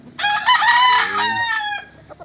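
A roundhead hatch claret gamefowl rooster crows once, loud and close, with a full drawn-out cock-a-doodle-doo that tapers off at the end.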